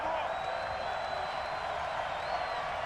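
A stadium crowd roars in a Madden 20 football game, 49ers versus Redskins: a dense, continuous wash of cheering at even loudness, with no clear breaks.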